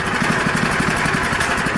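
A fire department portable pump's gas engine runs steadily at close range, a loud, even, rhythmic chugging idle that continues alone without pause as it burns off the last of its fuel.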